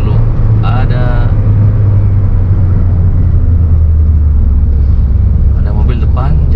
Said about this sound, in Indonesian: Bisa halus ketika kalian lepas kopling bareng gas seperti ini.